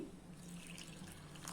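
Water trickles softly into gram flour batter in a kitchen, a faint continuous pour with light splashing, quiet and close.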